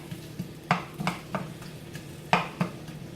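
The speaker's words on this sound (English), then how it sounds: "we're going to start with the onions. we're gonna caramelize that." Onions stirred in a hot oiled pan while caramelizing, with a utensil scraping and knocking against the pan in about eight irregular strokes over a faint, steady sizzle.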